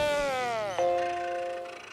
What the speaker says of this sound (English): Karen's reboot sound is a nostalgic nod, as it mimics the classic Apple Macintosh startup chimes